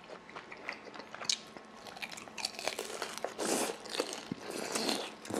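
Crisp, crackly bites into Korean-style fried pork guobaorou with its sauce, loud and close, a run of sharp crunches and crumbly chewing over several seconds with no talking.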